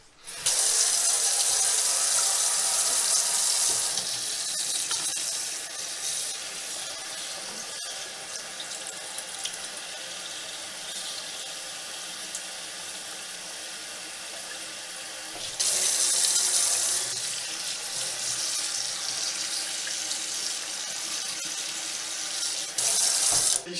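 Water from a tap runs steadily into a sink while a cotton T-shirt treated with a waterproofing laundry liquid is held under the stream, a loud continuous rush that softens in the middle and then swells again, with no talking.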